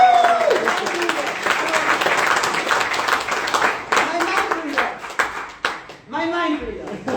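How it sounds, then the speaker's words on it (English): A crowd claps in a dense burst of applause that swells and then thins out, while a person talks over it at the start and again toward the end. "please an applause for him"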